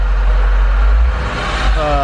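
A rebuilt Dodge Charger SRT-8 that is running slightly hot and will not rev past 4,000 RPM gives a deep, steady engine rumble that climbs in pitch toward the end, with a voice talking over it.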